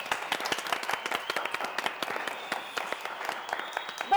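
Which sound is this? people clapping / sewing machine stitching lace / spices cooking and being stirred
people clapping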